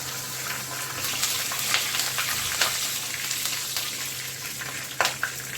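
Whole coriander seeds, cumin and a green chili crackle in hot oil, a continuous soft sizzle with scattered sharp pops, close and moderately quiet, no voices.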